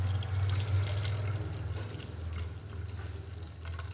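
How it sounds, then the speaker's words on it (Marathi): Warm milk pours into a clean steel tiffin box to set homemade curd: a soft, steady liquid trickle over a low background hum, fairly quiet and close, with no talking. "यामध्ये आपण हे दूध घालणार आहोत आता"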